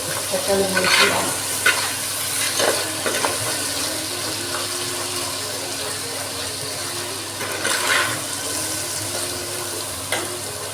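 Tomatoes sautéing in a pan as the base for a Tamil catfish (keluthi) curry, with a steady broadband sizzle and repeated scraping stirs around the start and near the end, close and with no voices.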